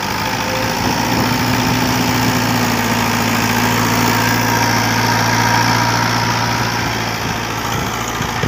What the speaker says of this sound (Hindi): देखते हैं ट्रैक्टर किवें खिंचदा वा रूटावेटर